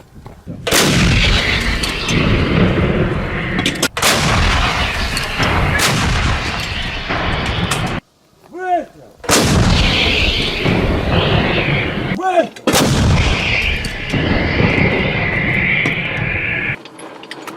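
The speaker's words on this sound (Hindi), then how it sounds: "रूस की तोपें भी वेस्ट की तरफ से यूक्रेन पर लगातार दनादन दागी जा रही हैं।" Russian artillery guns fire repeatedly, each shot a loud, close, sharp blast followed by a long rumbling roll, several booms spaced seconds apart with brief quieter gaps between.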